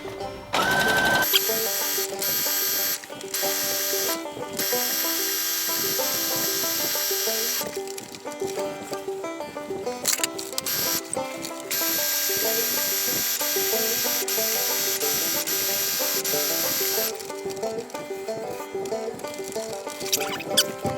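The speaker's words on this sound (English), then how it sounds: "Now we're going to sew those crotch seams I just sewed, and we're sewing them flat, nice and easy." A sewing machine stitches flat crotch seams on stretchy wrestling shorts, a loud, fast mechanical whir in long runs that stop and restart, with brief pauses between passes.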